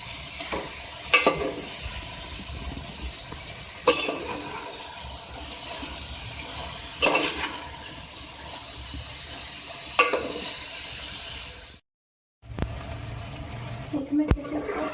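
Cabbage and potato fry with masala in a pan, a continuous sizzle punctuated by about five sharp spatula scrapes spaced a few seconds apart, with a brief dropout near the end.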